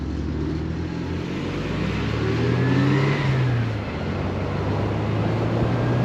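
Porsche 924S engine accelerating up a mountain road, a loud mid-pitched drone from inside the car that climbs and falls in pitch as it pulls through the gears.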